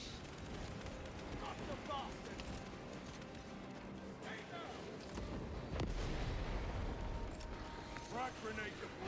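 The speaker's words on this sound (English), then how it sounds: "Frag grenade deployed." In Warhammer 40,000: Space Marine 2, a frag grenade goes off in a low, booming blast partway through, set within ongoing combat noise and scattered gunfire, with voices heard in the mix.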